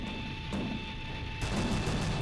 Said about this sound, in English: Friendly tracers who are firing at the second F8